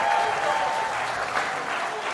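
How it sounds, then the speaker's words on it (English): An audience applauds steadily for about two seconds, a dense wash of clapping with light crowd noise. "Another round of applause for the Rain Man, Sean Kemp."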